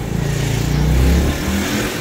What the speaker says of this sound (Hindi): ये देखिए सही मोटरसाइकिल चला रहा है।